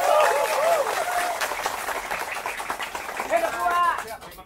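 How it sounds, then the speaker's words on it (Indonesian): A crowd at a village head election claps at length, loud at first and then a little softer, with people shouting and talking over the applause. "Tepuk tangan semuanya."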